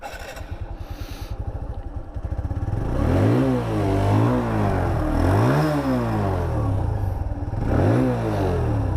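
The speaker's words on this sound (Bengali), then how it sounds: "So let's start the engine." A TVS Apache RTR 160 2V double-disc motorcycle engine putters at a low idle, then revs up and falls back in several loud, rising and falling surges close by.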